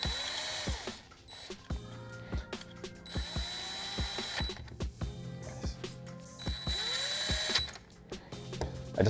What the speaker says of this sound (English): I just like to cinch it up with the DeWalt